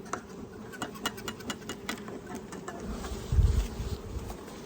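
Honeybees buzzing around an open beehive, a dense close hum with individual bees zipping past the listener and a brief louder rumble near the end.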